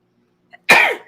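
A single abrupt, forceful sneeze-like burst, close and loud, preceded by a tiny intake sound, then trailing off quickly.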